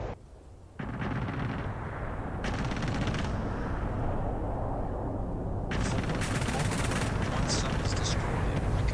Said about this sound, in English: Three, two, one, bombs away.